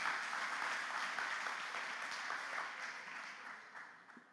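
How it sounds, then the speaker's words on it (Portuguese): Applause from a church congregation honoring the Lord at a women's service, a sustained, dense wash of clapping that holds steady for several seconds before tapering off, with no talking over it. "Dê uma salva de palmas para o Senhor."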